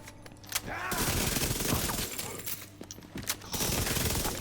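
Sustained gunfire from a PvE build in the video game The Division 2, continuous bursts of shooting packed close together over several seconds with a brief lull midway, loud and dense throughout.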